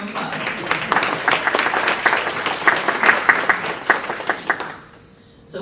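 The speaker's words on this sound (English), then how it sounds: "So let's give you all a round of applause." Audience at a guardian ad litem volunteer training session in Fort Pierce, Florida, applauds with dense, steady clapping for about five seconds, then trails off quickly into near silence.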